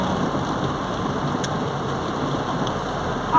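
Heavy rain pours down steadily in the street outside the municipal hospital in Lapão, Bahia, with runoff rushing along the pavement as a constant, dense hiss and no voices.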